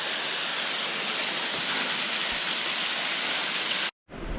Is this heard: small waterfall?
yes